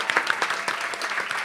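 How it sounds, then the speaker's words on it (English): A small audience at a songwriters' circle gives a brief, moderately loud round of clapping, with individual claps audible in a quick, uneven patter. "Can we just have another round of applause"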